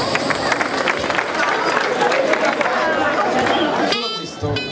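Crowd at a town street event in Crispano, dense mixed cheering and clapping with babble, steady and loud throughout, thinning near the end.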